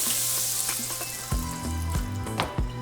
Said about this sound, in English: we're going to add a little bit of butter